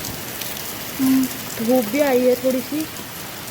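A sudden, heavy downpour makes a steady, dense hiss of rain throughout, with a person talking over it.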